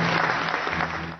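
Audience applause for Oliver Stone at the Fajr festival closing ceremony, a steady burst of many hands clapping in a large hall, briefly and at a moderate level.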